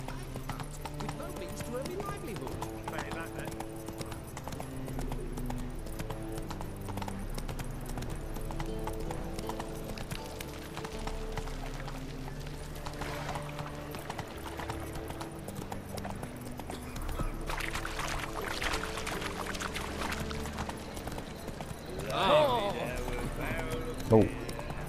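The horse Roach gallops in The Witcher 3: Wild Hunt with steady, rhythmic hoofbeats sustained throughout, mixed with game music and sound effects, and a brief louder burst near the end.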